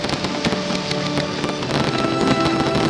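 A fireworks display sets off a dense, continuous stream of crackling bursts and sharp pops, loud and close, with a faint tonal layer running underneath.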